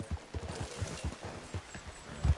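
Horse hooves clop in a steady, rhythmic gallop while riding in Red Dead Redemption 2, with repeated muffled thuds close by and no talk over them.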